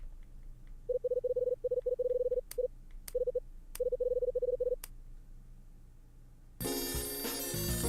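A phone in the video game Last Window rings with a series of repeated electronic warbling bursts in short groups, broken by sharp clicks, followed by a burst of louder game music.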